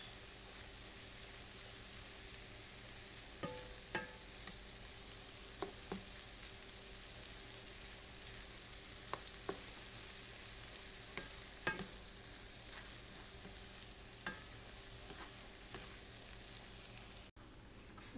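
Shrimps stir-frying with butter and garlic in a pan, a faint, steady frying hiss with scattered soft clicks of a utensil, quiet and continuous, briefly cut off near the end.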